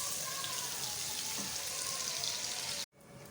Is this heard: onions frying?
yes